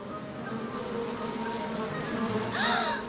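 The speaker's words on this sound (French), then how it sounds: "Les abeilles!" A steady insect buzz hums through the whole stretch, with a brighter whirring swell near the end, like bees flying close by.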